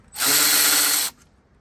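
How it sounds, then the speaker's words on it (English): A power tool removes 10mm bolts on a Mazda RX-8 in a single close, loud whirring burst of about one second that stops abruptly. "Go ahead and remove 10mm bolts."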